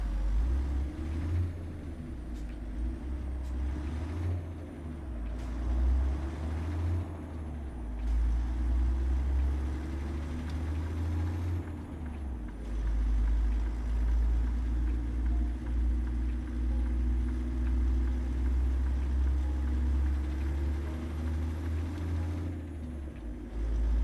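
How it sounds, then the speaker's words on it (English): Trucks rumble along in American Truck Simulator on the Illinois roads, a loud, steady low engine drone with brief hissing air-brake bursts and shifting road noise throughout. "I hope you can hear me over these trucks. These are loud."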